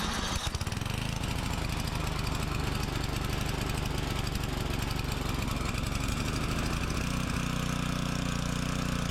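A Craftsman snowblower with a Tecumseh engine and a new carburetor sputters to life, then settles into a steady, loud, close running drone, its tone dropping slightly toward the end as it idles down.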